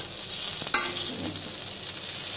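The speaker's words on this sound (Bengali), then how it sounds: "দেখো আমি আলু ভাজা গরম করছি।" Leftover fried potatoes are warmed up in a pan, a soft continuous sizzle broken by a single sharp scrape of stirring near the start.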